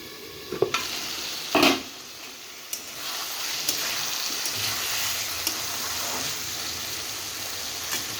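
Fish curry masala sizzling and frying in a pan as a utensil stirs it, with steady hissing and a few scraping knocks and clanks, close and alone without talk.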